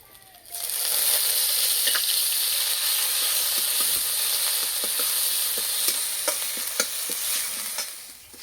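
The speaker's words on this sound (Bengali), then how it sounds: "পেঁয়াজ আর রসুন ভালো করে ভেজে নিয়েছি" Onion and garlic paste frying in hot oil makes a loud, continuous sizzle, punctuated by repeated scraping strokes of a spoon stirring the pan.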